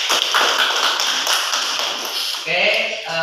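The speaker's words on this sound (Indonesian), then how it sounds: "tepuk tangan untuk Mbak Nista" Classmates give a presenter a short burst of applause in a classroom, close and fairly loud, then it trails off as a voice briefly speaks over it.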